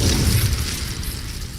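A fiery Incendio spell cast in Hogwarts Legacy, giving a loud, low, roaring burst of flame that holds steady and then eases slightly, with no voices.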